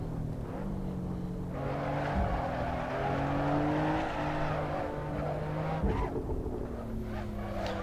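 A race car sliding in oversteer in a sim racing game, its engine droning steadily as the revs rise and fall, with faint tire scrub through the slide. No one speaks.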